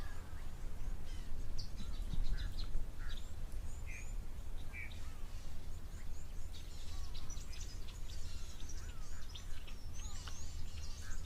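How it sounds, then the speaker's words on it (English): Blue waxbills calling in thickets near a waterhole, giving faint, very high-pitched chirps scattered throughout over steady broadband background noise, with no talking. "You can hear some blue waxbills calling with that very high pitch."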